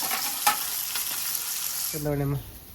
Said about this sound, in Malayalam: അപ്പോൾ ഈ രണ്ട് മീനും കൂടി ഞാൻ പൊരിച്ചെടുക്കട്ടെ